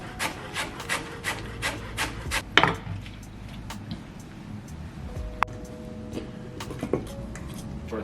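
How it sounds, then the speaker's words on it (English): A knife chops green onions on a cutting board, giving quick regular knocks for a few seconds, then a pause and a few scattered taps, close and fairly quiet. "Let's cut up some green onions."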